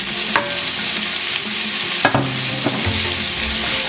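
Tomato being stirred into sautéed salt cod in a pan: a loud, close sizzle runs throughout, broken by several sharp scrapes and knocks of the spoon against the pan.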